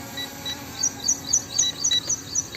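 An M3 Max drone remote sounds its low-battery warning as a series of short, high electronic beeps repeating in a quick, regular rhythm over a faint background hum.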